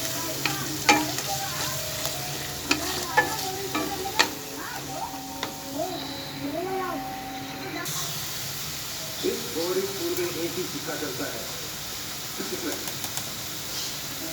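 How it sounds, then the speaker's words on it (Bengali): Onions frying in a pan as a spoon stirs them, steady sizzle with scraping and clinking, a voice speaking over parts of it. "পেঁয়াজটা ভালো করে ভেজে নেব।"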